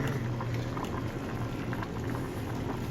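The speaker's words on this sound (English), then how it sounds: "I'll stir this around a little bit." Beef pasta soup with gravy mix bubbles in a pan while being stirred, a dense, continuous close-up bubbling simmer with a wet churning texture and no voices.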